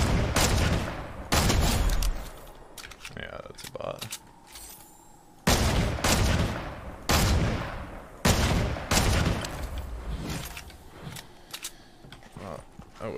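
Loud bursts of rapid gunfire in the shooter game Fortnite, several sharp volleys separated by short pauses, up close, with brief talk between them.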